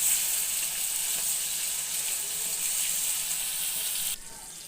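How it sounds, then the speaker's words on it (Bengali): Rohu fish frying in a pan of hot oil, a loud continuous hiss and crackle that drops abruptly near the end. "এখন আমি রুই মাছ ভাজি করছি।"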